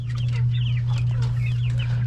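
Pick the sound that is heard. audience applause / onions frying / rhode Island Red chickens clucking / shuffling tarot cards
rhode Island Red chickens clucking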